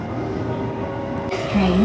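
Interior rumble of a train bound for Harajuku in Japan, a steady low drone with a rising tone near the end and a voice speaking over it.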